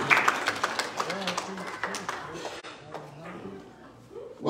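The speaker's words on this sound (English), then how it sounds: "If you clap your hands, thank the Lord." A church congregation clapping hands during a sermon, scattered claps and taps mixed under a preacher's loud speaking voice and room chatter, fading somewhat toward the end.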